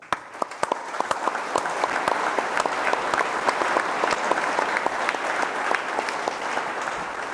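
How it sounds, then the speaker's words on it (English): Sustained audience applause fills a convention hall at an IMSA sports car racing series event, steady and dense with sharp individual claps standing out throughout. "I want to lead this round of applause."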